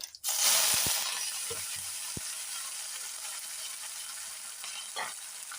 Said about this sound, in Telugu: ఇప్పుడు మన పోపు అయితే వేగిపోయింది